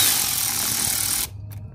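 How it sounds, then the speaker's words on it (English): Bolts on a PRL titanium inlet for an FL5 Civic Type R / DE5 Integra Type S being snugged with a 7mm socket, a close continuous ratcheting mechanical whir that stops abruptly, followed by faint brief clicks. "We're just going to go ahead and tighten everything with a 7mm"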